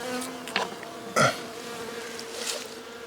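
Bees buzz around a beehive outdoors in late fall, a faint steady hum with a couple of louder close passes as individual insects fly by the microphone.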